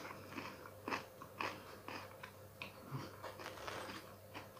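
Crispy, crusty bread served with baked eggs cocotte is bitten and chewed close up, giving a series of crunchy bites and crackles in an irregular rhythm, quiet and without talk.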